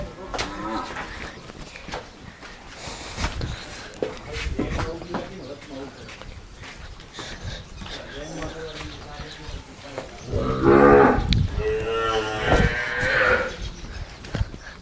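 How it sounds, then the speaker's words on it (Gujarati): Buffaloes on a farm give loud moos and lowing calls, rising strongest near the end, while people talk over and between them nearby. "હાલો આપણે આપણી ભેંસો દેખાડીએ."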